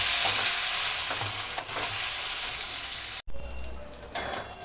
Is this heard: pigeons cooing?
no